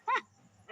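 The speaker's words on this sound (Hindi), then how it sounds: "अरे मेरे पिल्लू को कुत्तों ने दौड़ा दिया" A dog gives two short, sharp barks or yips close by, the first clear and the second cut off at the end, with a brief quiet gap between them.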